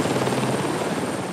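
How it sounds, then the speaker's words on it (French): A helicopter flying over the mountains of Tahiti gives a close, continuous rotor and engine roar, loud and steady throughout the short stretch with no talking. "L'hélicoptère survole le Diadème, la montagne la plus emblématique de la grande île."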